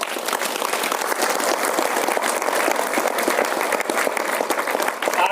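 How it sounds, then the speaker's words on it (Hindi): Seminar audience at a mind-power training session applauding: loud, dense, continuous clapping from a large crowd that keeps an even intensity for several seconds, with no voices over it. "ताली बजा दीजिए सर।"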